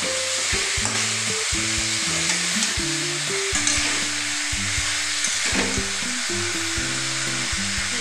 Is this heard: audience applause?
no